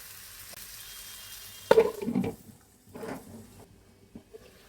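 Native chicken pieces sizzle in oil in a covered pan, a soft background crackle broken by a loud burst of hissing and a couple of weaker sizzling swells, no speech.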